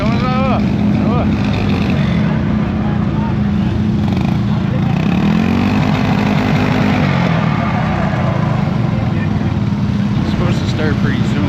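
Snowmobile engines rev and drone loudly at an outlaw skidoo race at Eel River Crossing, New Brunswick, a dense continuous roar with rising whines from passing sleds while people chat nearby.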